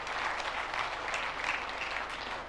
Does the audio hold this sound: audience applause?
yes